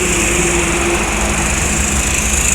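A Sumbar-bound intercity bus, a Sembodo Sweet Kombi, rolls past on a road near Palembang, its steady engine roar and tyre noise loud and close throughout, with a high whine riding above the low rumble.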